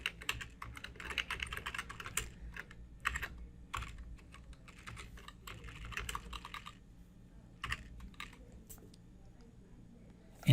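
Keys clack on a computer keyboard in quick irregular bursts, typed close and fairly quiet with short pauses between runs of strokes.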